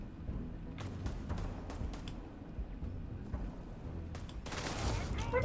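Automated turrets in Starfield let off scattered, fairly faint shots over a steady low rumble of game noise, with a denser volley near the end.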